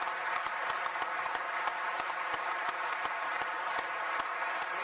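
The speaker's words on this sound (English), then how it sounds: "please give a round of applause to these agreements" Audience at Guildhall, London, applauding, heard as a steady, even wash of clapping from a large room, with a few sharper individual claps standing out throughout.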